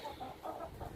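Hens cluck in a short burst of several soft, rising calls, close by and steady over a faint farmyard background, with no talking.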